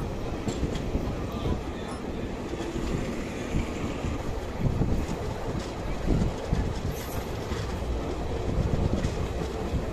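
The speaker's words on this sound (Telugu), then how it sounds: "మొత్తానికి మన ట్రైన్ అయితే సూపర్ ఫాస్ట్ కొని వెళ్ళిపోతుందండి." Rumbling from inside a superfast train running on the rails between Ongole and Chennai, a steady low roar with rhythmic clacking bursts and wind buffeting, moderately loud and continuous with no speech.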